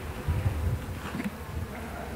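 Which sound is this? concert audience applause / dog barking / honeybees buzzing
honeybees buzzing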